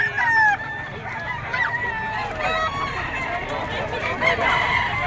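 A yellow-legged stag gamecock crows loudly nearby at a crowded rooster market in Bocaue, Bulacan, several drawn-out calls standing out over other birds and background chatter.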